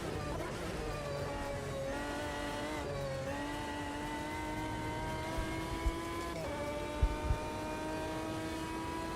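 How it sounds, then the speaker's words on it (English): A loud car engine in a racing video game drones steadily up close, its harmonic whine shifting in pitch as the revs rise and fall, with a few faint thumps late on. "This car's well loud. Even with the volume turned down."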